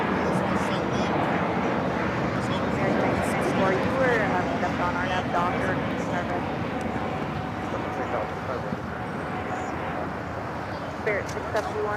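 A Spirit Airlines Airbus A320neo jet at LAX, its engine rumble moderately loud and continuous, with people chatting over the noise throughout.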